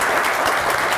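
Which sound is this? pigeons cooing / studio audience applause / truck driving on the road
studio audience applause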